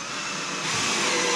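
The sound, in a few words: driving 3-inch screws into a 2x4 handle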